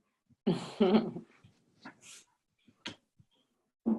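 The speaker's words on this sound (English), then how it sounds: "we hear a dog barking" A small dog barks in the background of a conference call, giving a few short, faint yaps and snuffles separated by silence.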